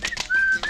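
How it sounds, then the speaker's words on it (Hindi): A shrill whistle sounds in short chirps followed by one sustained steady blast and another brief toot, loud and close, in a domestic Hindi film scene with no speech over it. "सीटी बज गई, सीटी बज गई।"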